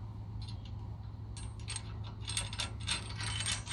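Metal-on-metal mechanical clicks and creaks of a nut being tightened onto a bolt and washer on a Wunderbar three-point tool bar, with a steady low hum underneath and denser ratcheting bursts in the second half.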